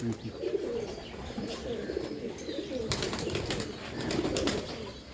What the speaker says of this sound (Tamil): இதில் தான் நம்ம கீரி செட்டு புறாக்களும் இருக்குது.